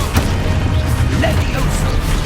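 Confringo fire blast spells from Hogwarts Legacy, a rapid run of loud crashing bursts and whooshing impacts over dense, busy game combat noise.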